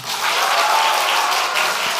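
A congregation at a Korean Sunday church service breaks into dense, sustained applause for a visiting guest preacher, loud and continuous throughout.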